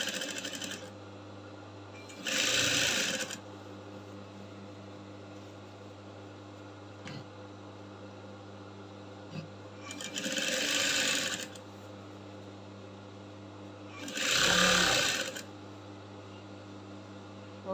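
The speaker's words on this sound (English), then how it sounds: "I'm sewing from the center back to the center front." Sewing machine stitching a collar onto a shift gown, three close bursts of rapid running stitches, with quiet pauses and a low hum between them.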